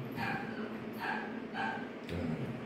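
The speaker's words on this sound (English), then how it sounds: "We're still training a uh, little puppy." A little puppy yips and barks in short, high-pitched bursts, about four calls spaced roughly half a second apart, fairly faint, set against a quiet indoor room tone.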